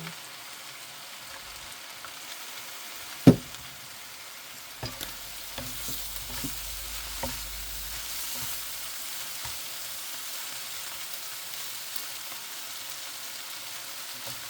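Noodles stir-fried in a pan with pepper and fish sauce give a steady close sizzle and hiss throughout, with a sharp clack of the utensil early and a few softer scrapes and knocks as they are tossed.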